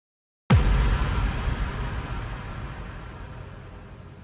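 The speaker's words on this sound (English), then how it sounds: "So that's my low impact, and then I also want a high impact on top of it." One heavy layered impact sound effect for a music mix, a deep booming hit with a bright crash on top, striking loudly after silence and decaying slowly over several seconds.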